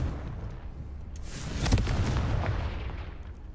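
A fiery Confringo blast spell in the Hogwarts Legacy game, a deep booming burst that swells mid-clip over a low rumbling bed and trails off.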